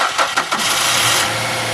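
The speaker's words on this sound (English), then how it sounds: "right away I can tell that it's idling a lot smoother and I have proper throttle response" A used car's engine, just back together after a sensor cleaning, cranks and catches, then settles into a steady, smooth idle; close and fairly loud, with no talking.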